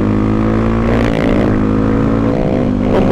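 A motorcycle engine revs hard and holds a loud, steady drone during a wheelie attempt, close to the rider with no talking.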